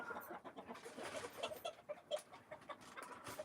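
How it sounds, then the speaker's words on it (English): Several chickens cluck softly and steadily, with short repeated calls at a modest distance in a quiet farmyard and no talk over them. "You hear the chickens, they're so happy."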